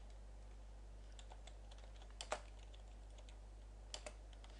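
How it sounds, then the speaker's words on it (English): Computer keyboard typing at a desk while a word is entered, a handful of light, quiet key clicks scattered across the moment with two small bursts, alone over a steady low electrical hum. "So here I'm gonna type in contact"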